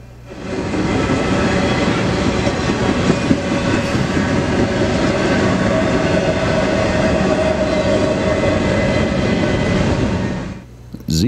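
An intermodal freight Z train rumbles past in Galesburg, Illinois, a loud, steady roar of wheels and cars that holds evenly for about ten seconds before dropping off sharply at the end; no one speaks.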